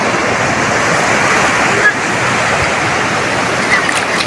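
Sea waves wash steadily onto a beach at sunrise, a continuous broad rushing surf that fills the whole stretch without a break, close and fairly loud.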